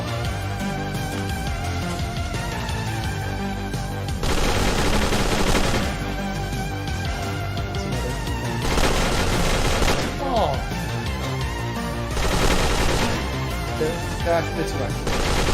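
Rapid bursts of gunfire from an AI-controlled enemy in a Unity game demo, loud repeated volleys over a steady game soundtrack, with people talking intermittently.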